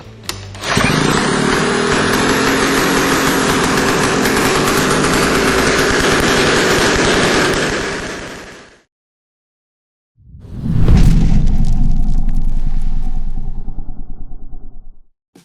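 A loud Komar engine, mounted reversed and started with a drill, roars for several seconds and cuts out, then after a brief silence it fires up again and runs before winding down.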